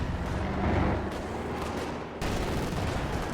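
Heavy gunfire and explosions in the World War II strategy game Company of Heroes 2, with MG42 machine gun fire amid a dense, loud, continuous barrage that drops briefly before resuming.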